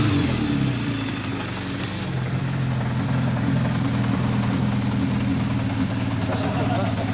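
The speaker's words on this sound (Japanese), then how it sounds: "吉村のエンジン音聞かせてもらおうかな" A Kawasaki GPz400 motorcycle engine with a period Yoshimura four-into-one exhaust rumbles steadily up close with a deep, throaty exhaust note, idling loudly throughout with slight swells in revs.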